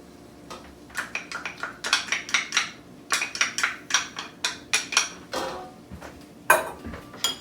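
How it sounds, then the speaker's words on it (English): Shrimp shells and onions tipped into a metal cooking pot, giving a run of sharp, close clattering knocks and scrapes in quick irregular bursts, with a louder clank near the end. "so we're going to dump in our shells. We're also going to add in our onions"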